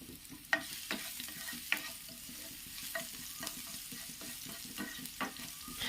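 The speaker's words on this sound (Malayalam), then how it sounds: "വെളിച്ചെണ്ണ ചൂടായ ശേഷം നമ്മൾ ആദ്യം വെളുത്തുള്ളിയാണ് ചേർത്ത് കൊടുക്കുന്നത്" Garlic fries in hot coconut oil with a soft, continuous crackle and sizzle. Repeated spatula scrapes and taps against the pan come at an irregular pace, quiet and close by.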